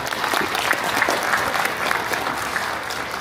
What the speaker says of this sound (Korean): 환영의 큰 박수 한번 보내주시기 바랍니다